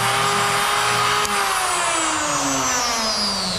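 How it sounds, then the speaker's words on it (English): A small grinding wheel sharpener whines steadily as a TIG welder's tungsten electrode is turned against it, a loud continuous tone with a brief dip partway and a slowly falling pitch. "which is a little grinding wheel"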